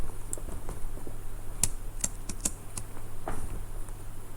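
Irregular clicking of typing on a computer keyboard during a Flee The Facility game, with sharper key taps scattered over a steady low hum, moderately close and with no talk.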